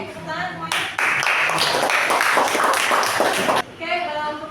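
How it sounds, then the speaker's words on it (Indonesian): Students in a school coding class clap together in a short, loud burst lasting about three seconds, framed by a teacher talking before and after. "tepuk tangan semuanya"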